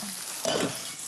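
Potatoes layered and pan-fried until crisp like chips in a TV cooking-show kitchen, giving a brief steady sizzle with a short burst of stirring or scraping in the middle, no talk over it.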